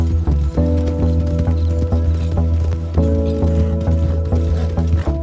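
A horse's hooves clop in Red Dead Redemption 2, with a lantern attached to the horse: a steady run of rhythmic hoof beats plays loud and close over a sustained musical drone.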